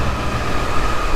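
Fuel pressure builds in the fuel system of a 1999–2003 Ford 7.3 Powerstroke diesel, heard as a steady, close, loud rushing hum that holds without a break for the whole short moment.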